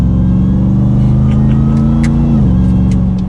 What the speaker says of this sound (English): putting it in sport mode, downshifting a few times